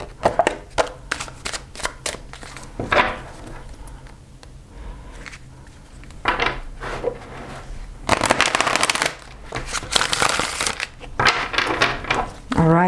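Tarot cards are shuffled in repeated bursts of riffling and flicking, loud and close, with a few short quiet gaps between the passes and no voices.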